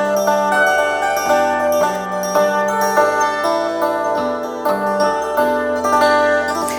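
Kantele plucked with low bass strings under a bright melody line, ringing tones overlapping in a steady, close, clear rhythm with no voices.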